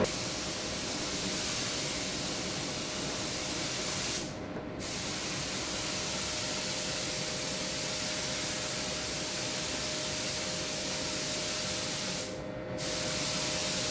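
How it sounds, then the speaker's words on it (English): A spray gun lays PPG Vibrance clear coat onto a ute, a steady close hiss that runs continuously and cuts out briefly twice, with a faint tone underneath and no speech. "Nice little coat of the old PPG Vibrance Clear."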